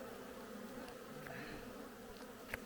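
Honey bees and wasps drone steadily around a hive, a dense continuous buzz close by with a faint click near the end.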